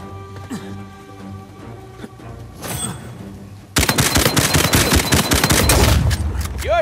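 Gunfire rings out in the video game Uncharted 4: a quieter stretch of game sounds and music gives way to a loud, sustained burst of rapid automatic shots dominating the final seconds.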